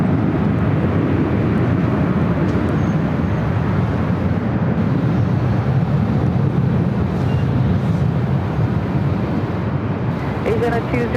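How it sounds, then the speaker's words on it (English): Air New Zealand Boeing 777-300ER arriving at LAX on runway 25 left, a broad steady roar of jet engines filling the air throughout, loud and sustained with a faint voice coming in near the end. "777-300ER, Air New Zealand."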